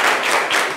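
Audience applause at a live French stage show, dense and steady with no breaks, loud and close for under a second.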